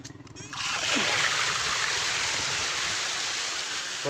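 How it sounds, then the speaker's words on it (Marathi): Water released from a village tank gushes out in a loud, continuous rushing splash that stays steady for several seconds after a brief quieter start. "टाकीतलं पाणी सोडून दिलं"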